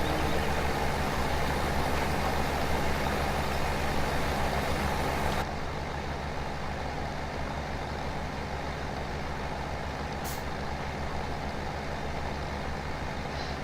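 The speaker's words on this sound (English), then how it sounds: "I probably should have the other tractor on this machine" A tractor engine in Farming Simulator 17, droning steadily and evenly for the whole stretch, dropping slightly in loudness partway through, with no talk.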